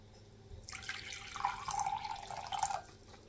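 Water pours into a container for a sourdough starter, a short splashing, trickling stream lasting about two seconds, quiet and close.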